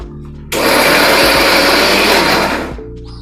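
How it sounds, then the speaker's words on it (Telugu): A kitchen mixer grinder coarsely grinds soya chunks, switching on abruptly into a loud, steady whirring roar that holds for about two seconds before winding down. "ఇప్పుడు వీటిని మనం మిక్సీ వేసుకొని కొంచెం బరకబరకగా గ్రైండ్ చేసుకోవాలి."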